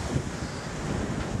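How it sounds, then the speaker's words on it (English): Steady wind buffeting the microphone on a yacht trip near Kaş, a dense low rumble with gusty fluctuations, constant throughout with no talking. "it's a bit windy, getting a bit cold"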